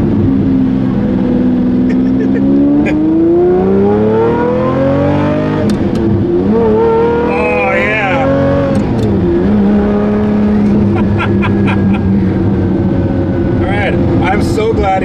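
A Lamborghini Murcielago engine revs hard through repeated gear shifts, each climbing pitch cut off by a shift. It is loud and close throughout, with voices talking faintly underneath.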